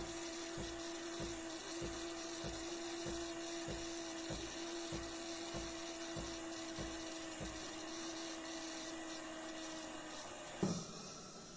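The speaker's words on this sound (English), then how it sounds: "Grinder can be a little bit loud" A De'Longhi Dinamica Plus Perfetto bean-to-cup coffee machine grinds beans in a corner, a steady whining mechanical drone with a regular ticking pulse that runs for about ten seconds before a sharp clunk as it stops.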